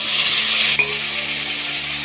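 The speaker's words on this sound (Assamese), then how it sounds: "এনেকৈ অলপ অলপকৈ দি ল'ম দালি" Lentils (dal) tipped into a hot pan and frying, with a steady broad sizzle throughout and one brief clink of a utensil near the start, no voices.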